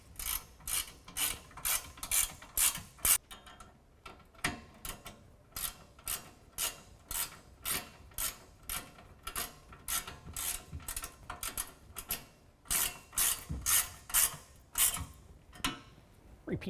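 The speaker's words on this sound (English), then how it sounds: "we're going to tighten that down with a 13 millimeter" A hand ratchet with a 13 millimeter socket tightens serrated flange nuts onto carriage bolts on a truck bed rack, giving a close series of rapid clicking ratchet strokes in short bursts, pausing briefly, then continuing.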